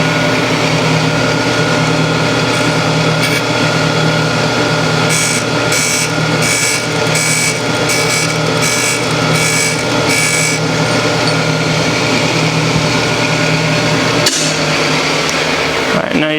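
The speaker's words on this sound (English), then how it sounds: "the other part of our valve grinder has a V-block that then goes in at an angle into the grinding wheel" A valve grinder's wheel spins steadily while an engine valve tip from a GM 5.3 V8 is held in a V-block against it, a loud continuous mechanical whir with grinding contact bursts, ending with a sharper clunk.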